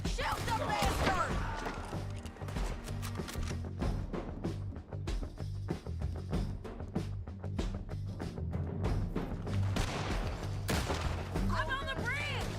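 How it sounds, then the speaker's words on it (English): Gunfire in the Western video game Red Dead Redemption 2, with repeated sharp, close shots in irregular bursts over a low rumble and shouting voices. "Shoot the bastard!"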